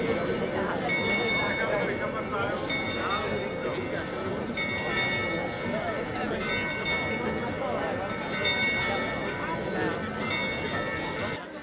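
The astronomical clock bell at Prague's Old Town Hall strikes at noon, a series of ringing, metallic tones at regular intervals. A large crowd murmurs and talks beneath the strikes.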